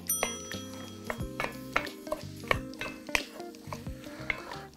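A spoon stirs sturgeon and root vegetables stewing in a pot, giving a series of irregular scrapes and clinks against the pot over a low simmering background, close and fairly quiet.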